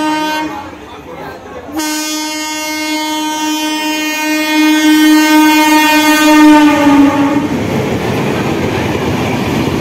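At a station, a local train on the Santragachi–Digha route sounds a long, loud, steady horn blast lasting several seconds. Rumbling rail and crowd noise follow it.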